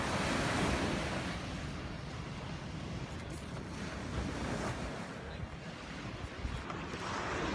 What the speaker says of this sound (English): Wow, look at the crashing waves.